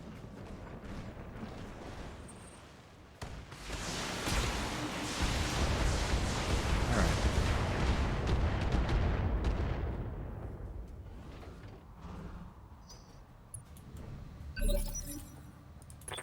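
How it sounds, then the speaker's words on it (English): Mech lasers fire in the BattleTech game: a long, loud sustained burst of crackling, roaring weapon fire builds and holds for several seconds, then fades, followed by a brief sharp impact. "we'll fire a bunch of lasers"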